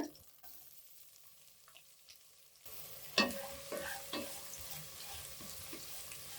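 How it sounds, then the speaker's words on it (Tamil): Sliced large onions fry in oil for a jackfruit-seed veg dum biryani, starting quiet and then rising into a close sizzle with a sharp clatter and intermittent spoon scrapes as they are stirred, no talking. "வெங்காயம் நல்லா வதங்கணும்"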